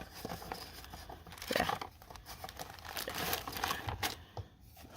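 Worm bin bedding material is cut up with close, steady crinkling and tearing, a busy run of papery rustles and snips with no talking.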